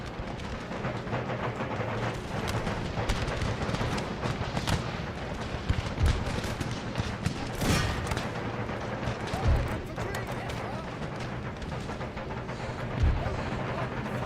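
Rifle fire from Empire: Total War crackles in scattered volleys and sharp single shots over a steady battle din, with occasional louder cracks, while a voice talks faintly in places.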